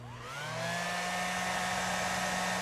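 A hair dryer drying paper origami at a folding contest spins up over half a second, then settles into a steady close whirring hum with a strong low motor tone and a rising whine, alone without talk.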